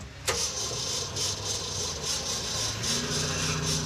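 The diesel engine of a 1978 Chevy El Camino turns over after a sharp click, running close by as a steady, rough, droning rumble with a slight shift in pitch near the end, and no voices over it.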